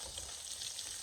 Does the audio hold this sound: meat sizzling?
yes